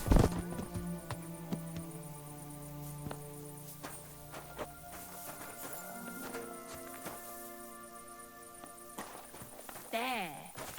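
Horse hooves clip-clop steadily at a walking pace in Kingdom Come Deliverance 2, moderately close, under a man's speech and background music.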